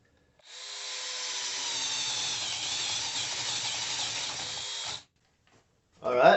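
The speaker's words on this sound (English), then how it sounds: "Thought we'd do a spade bit here real quick because they will beat something to death." A spade bit bores through wood held in a Harbor Freight 5-inch vise, making a loud, continuous, whining drill roar for several seconds. It cuts off abruptly, followed by a short knock and a brief pause.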